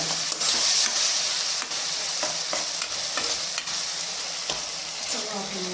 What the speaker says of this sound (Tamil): புளிஞ்சி வச்ச நாத்தங்கிறத இதில் ஊற்றுறேன் வதக்கிக்கோங்க